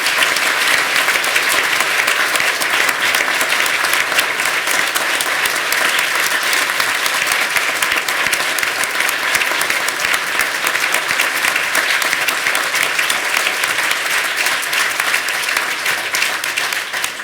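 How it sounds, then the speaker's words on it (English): Sustained audience applause fills a courtroom investiture ceremony for a chief judge, loud and steady from start to finish with dense clapping and no break. "Please give me a round of applause."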